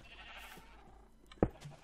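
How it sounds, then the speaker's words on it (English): A single short sheep bleat from Minecraft sounds near the end, fairly loud against a faint, quiet game background. "there's quite a lot of sheep here"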